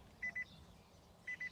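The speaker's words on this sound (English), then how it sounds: "When you open the door, it goes beep, beep, beep, beep, beep." Door-open warning chime of a ten-year-old Nissan LEAF: two pairs of short, quiet electronic beeps about a second apart, over faint cabin background noise.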